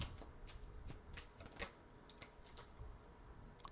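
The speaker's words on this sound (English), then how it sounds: "Before I start shuffling" Tarot cards are shuffled quietly, with soft, papery riffles and taps in irregular bursts, faint and close.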